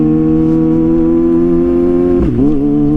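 Kawasaki ZX-6R sport bike accelerating with its factory quickshifter, a loud, steady high-revving engine drone heard up close, with a sharp dip and recovery in pitch around two seconds in as it clicks up a gear.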